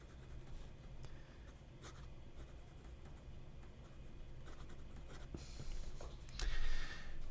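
An MB 149 fountain pen with a very soft, juicy nib writes on paper, making close, quiet scratching strokes with a few sharper taps and a brief louder scrape near the end.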